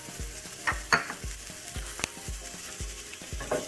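Garlic and onion sauté in a teaspoon of avocado oil, a steady close sizzle broken by a spoon repeatedly scraping and stirring the pan in a loose rhythm, with no talking.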